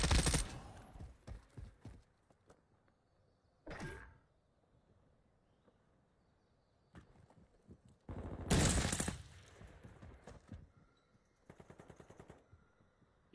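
Light machine gun fire in a video game, heard as short rattling bursts and scattered shots between quieter pauses, fairly close and punchy.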